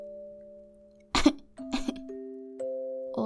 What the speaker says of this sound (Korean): 코뿔소가 잠시 헛기침을 하고 말을 이었다.